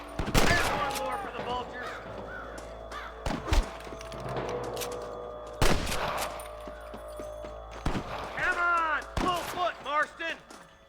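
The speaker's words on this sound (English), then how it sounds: "I can hear more gunshots." Gunfire in the Western video game Red Dead Redemption: several sharp, loud shots ring out at irregular intervals, mixed with thuds and a busy soundscape of voices and shouting.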